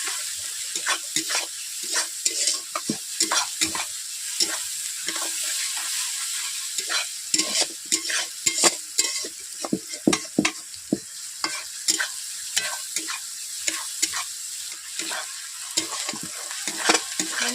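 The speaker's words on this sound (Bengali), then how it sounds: "হ্যাঁ, এইভাবে প্রত্যেকটা মশলা এইভাবে ভেজে ভেজে" Onion, ginger and garlic paste fry with spices in a pan for a village-style gugli (snail) curry, with frequent sharp scraping strokes of a spatula over a low sizzle and no talking.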